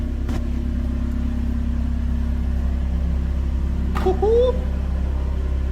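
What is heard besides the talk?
2021 Toyota Camry engine revving with new exhaust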